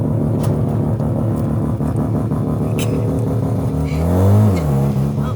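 A Mazda RX7, freshly rebuilt with zero miles, roars close by as its engine revs and climbs in pitch, a loud steady rumble with a rising swell near the end, no talk over it.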